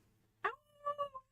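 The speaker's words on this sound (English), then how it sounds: "Ev's howling, not barking." A pet dog howls nearby in quiet, whimpering notes that rise and waver through several short pulses, rising after a sharp first yelp.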